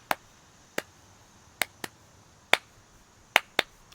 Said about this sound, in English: I want to be very careful if I ever add a clap that does thusly.